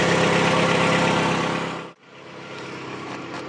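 A 1985 Cadillac Cimarron idling after sitting for a few months: a loud, close, rough idle that fades, cuts out briefly, then returns at a slightly lower, steady level.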